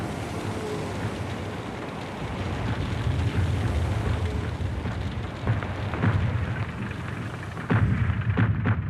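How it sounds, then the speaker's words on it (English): Artillery shells crash down on a railway station near Verdun, heard as a rumbling barrage with heavy low booms that swell and recur, a couple of sharper impacts standing out toward the end. "The next salvo did better, crashing down on the railway station."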